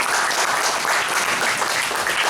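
An audience applauding for a team after a presidential thank-you, a loud, dense, continuous clapping that stays even for its whole length with no voices over it.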